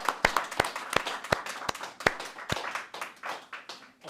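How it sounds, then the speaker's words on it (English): Applause for a storytelling presentation, a few distinct sharp claps from nearby hands ringing out over softer, thinner clapping from a small audience that tapers off. "So please join me, all of you, in a round of applause for Margo's presentation today."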